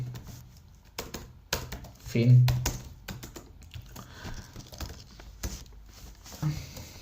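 Someone types on a computer keyboard in short bursts of clicky keystrokes, close and fairly quiet, while someone talks over it.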